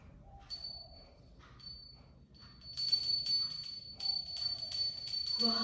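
A Balinese priest's genta hand bell rung while he sits cross-legged chanting mantras, giving bright, sustained metallic ringing in repeated bursts that swell and linger, fairly close and clear, with no voices heard.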